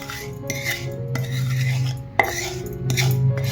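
Lemon pieces stirred into spice masala in a glass bowl for sweet-and-spicy lime pickle, with steady clinking and scraping and a few sharper knocks of a spoon against glass, close and fairly loud, no talking.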